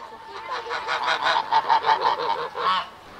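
Geese honk in a noisy cluster at a park feeding spot in East Izu, a run of nasal honks pulsing close and loud with no talking.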